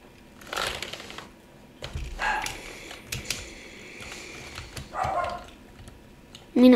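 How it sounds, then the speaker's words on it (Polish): A dog barks in the background, a few scattered bursts of barking spread across the clip at moderate distance, mixed with faint clicking and rustling. "Sorki za psa w tle."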